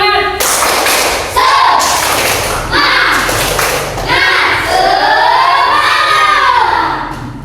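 Schoolchildren in a classroom perform a rhythmic clapping chant together, loud close claps and thumps in bursts mixed with their shouted voices.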